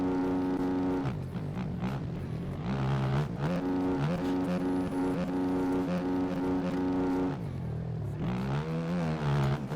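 Supercross motorcycles in a heat race at Detroit roar continuously with loud, rising and falling engine revs, several bikes layered together and shifting pitch as they accelerate and back off through the whoops.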